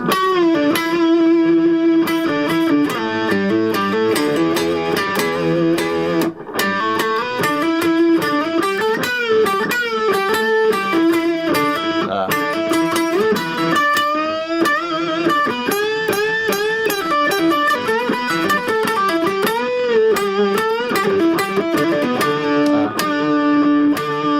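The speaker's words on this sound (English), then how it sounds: "like an octave effect on the sound of his guitar" An electric guitar plays a solo with a thick, doubled octave effect, sustained and loud, with fast melodic runs and bends.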